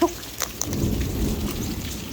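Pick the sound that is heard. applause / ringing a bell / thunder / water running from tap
thunder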